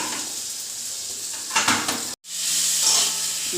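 Rice and potatoes frying in a pan for a raw-mango khichuri make a close, hissing sizzle, briefly louder with stirring scrapes, then a short cut and an even, quieter sizzle.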